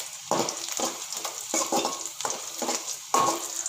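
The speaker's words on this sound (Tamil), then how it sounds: "ஒரு 4-5 பல் பூண்டு சேர்த்துக்கிறேன். அது கூட ஒரு துண்டு இஞ்சி ஆட் பண்ணிக்கலாம். இத லைட்டா வந்து ரோஸ்ட் பண்ணிக்கோங்க." Crushed garlic cloves and a piece of ginger fry lightly in hot oil for a Tamil country chicken curry, with a steady sizzle broken by repeated scrapes and stirs of a spoon against the pan.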